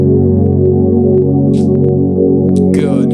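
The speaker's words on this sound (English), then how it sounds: "I add a super dark pad." A very dark, sustained synth pad on a Yamaha PSR-SX700 arranger keyboard, holding low, steady tones that fill the whole stretch, with a few faint higher keyboard notes and a brief bright flourish near the end.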